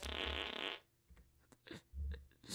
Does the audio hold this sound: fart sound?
yes